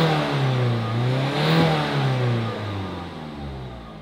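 A faulty used car's engine, with a suspected sensor or particle filter problem and heavy vibration, revs up and back down in a loud, close, rising-then-falling drone, then settles to a low idle rumble.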